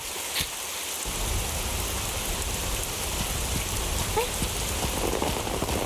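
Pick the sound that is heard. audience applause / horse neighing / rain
rain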